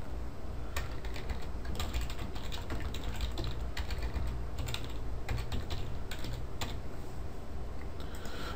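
Steady typing on a computer keyboard while writing Java code, with a continuous run of close, crisp key clicks and occasional sharper keystrokes over a constant low room hum.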